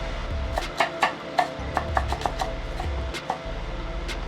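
A knife chopping onions on a board for a vegan corn chowder: a quick series of crisp, close knocks in an uneven rhythm, with a low kitchen hum underneath and no speech.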